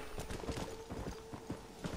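Horse hooves clip-clop in a steady trotting rhythm in Red Dead Redemption, fairly quiet and close, with no talking over them.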